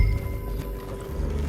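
Horses walk along a trail in Red Dead Redemption 2, their hooves clopping in a low, close, continuous shuffle over a rumbling background, with no speech.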